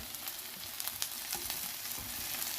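Chicken meat searing in a hot pan, a continuous bright sizzle and crackle with small irregular pops, steady and close.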